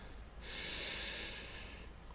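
A slow, steady breath drawn in through the nose during a calming sophrology relaxation session: one soft, airy inhalation that swells and fades over about a second and a half, quiet and close, with no talking.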